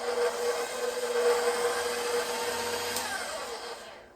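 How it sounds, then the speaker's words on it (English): An electric mixer whips dairy-free cream in a home kitchen, giving a steady, close motor whir that holds at an even level for about four seconds before cutting off near the end. "we're gonna start whipping this"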